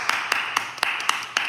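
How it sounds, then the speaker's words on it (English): Hand claps ring out in a steady, evenly spaced series of about six sharp slaps, moderately loud and close, with no speech over them. "clap it up for that."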